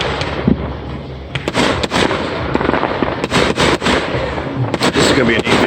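A fireworks display explodes in a rapid string of loud, sharp cracks and booms close by, bursting irregularly throughout, with people talking over the blasts.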